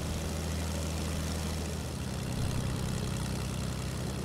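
Steady low drone of a propeller plane engine in the video game Fortnite, loud and continuous throughout, with a slight swell in intensity partway through and no talking.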